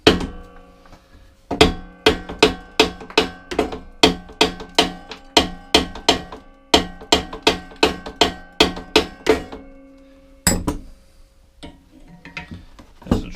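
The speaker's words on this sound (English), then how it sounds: "A bit of a whack with a hammer." Metal hammer strikes on a seized scrap lawn mower part, about two dozen sharp close whacks in an uneven rhythm, bunched at first and then spaced out, with a final heavier knock.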